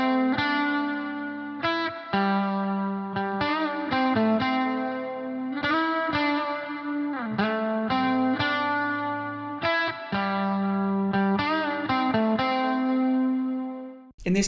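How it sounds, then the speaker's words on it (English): Two electric guitar parts run through a stereo widening plugin on a mixing channel strip, playing loud, sustained chords and riffs with effects and a wide, glued tone for about fourteen seconds with no talk. "on the channel strip I'm going to engage the plugin again just so that we can hear how it sounds"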